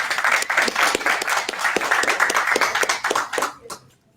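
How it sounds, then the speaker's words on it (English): Audience applause at a packed 1 Million Cups Fairfax gathering welcoming the new year, a few seconds of brisk, steady clapping from a nearby crowd that fades quickly at the end. "let's give this new year a round of applause"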